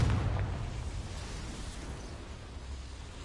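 A Confringo spell explosion in Hogwarts Legacy, set in a mine: a low boom at the start that decays into a rumbling tail.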